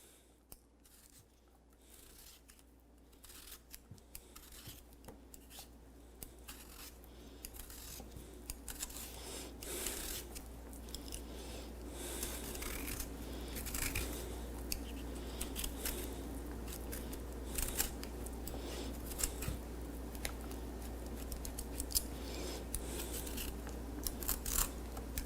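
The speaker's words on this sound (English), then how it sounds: "So I'm just going to peel the potato." A potato being peeled by hand for chunks to boil, giving a steady run of soft scraping and rasping strokes close by, growing slightly busier as it goes, with no talking.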